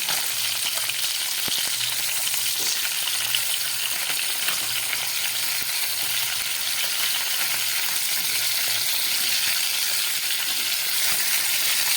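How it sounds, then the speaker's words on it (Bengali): Fish heads fry in hot oil, giving a loud, dense, unbroken sizzle and crackle that stays even throughout with no talking. "আমার মাছের মাথাগুলো এক পিঠ ভাজা হয়ে গেছে"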